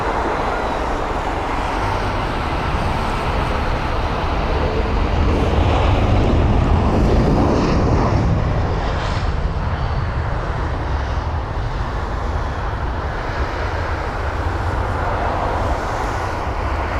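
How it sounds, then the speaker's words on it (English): A British Airways Airbus A380 departs London Heathrow at sunset, a deep, continuous engine roar that builds and then fades slightly over the span, loud and steady. "The British Airways A380 for departure, isn't it?"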